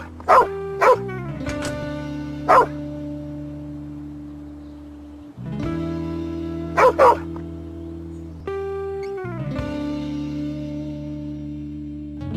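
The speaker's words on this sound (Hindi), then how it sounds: "हमारा डॉगी शायद पागल हो गया है, बिला वजह भौंके जा रहा है।" A pet dog barks in short, loud bursts, two or three sharp barks at a time, over a sustained tonal drone of dramatic background music, with pauses between the barking spells.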